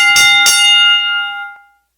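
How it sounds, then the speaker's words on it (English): A boxing bell struck twice in quick succession, loud and close, its bright metallic ring sustaining and fading out over about a second and a half. "it's so good to hear that boxing bell again too"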